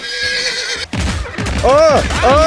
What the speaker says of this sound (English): Jeez, this horse is crazy loud.